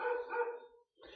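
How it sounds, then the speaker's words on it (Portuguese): A dog barks nearby, giving two quick barks with a short gap between them, moderately loud and heard alone. "o cachorro achou de latir agora"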